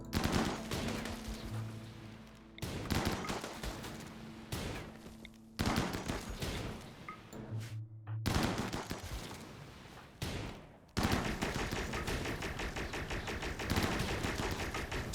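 Gunfire in the colony game RimWorld: repeated bursts of rapid automatic shots in several volleys separated by short pauses, the last stretch a continuous crackling barrage, loud and close.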